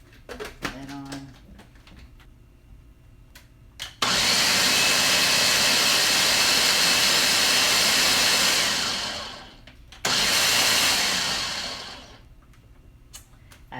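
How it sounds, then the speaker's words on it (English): A blender whirs loudly as it blends sea moss gel with alkaline water, running steadily for about six seconds, stopping briefly, then starting again and winding down; faint handling sounds come before it. "As you can see, it is getting blended."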